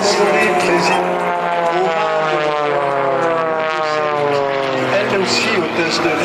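An aerobatic propeller plane flies overhead at the La Ferté-Alais airshow, its engine droning loud and steady with a slowly shifting pitch, while someone speaks over it.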